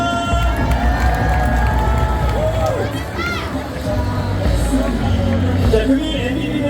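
Baseball stadium crowd cheering and clapping after an SSG Landers doubleheader game-one win, a loud continuous roar with shouts and a PA announcer's voice over it.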